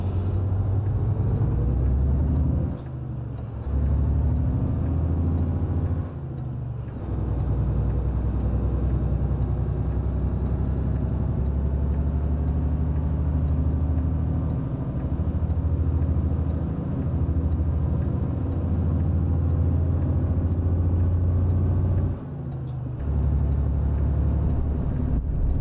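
A Mack R Series truck engine in American Truck Simulator drones low and steady, a loud continuous rumble with short dips where the throttle or gears change.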